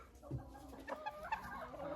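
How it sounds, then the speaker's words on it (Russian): A broody hen clucks softly among the flock at a poultry feeder, with low, faint, intermittent calls. "Квочка. Я ее вынимаю, она приходит и садится."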